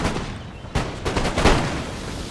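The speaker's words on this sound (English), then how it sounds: "CDIFF's throwing more grenades." Grenades burst in a battle in the video game Total War: Empire, with French troops assaulting British-held hills. Two or three sharp, close explosions stand out over a steady rumble of musket fire.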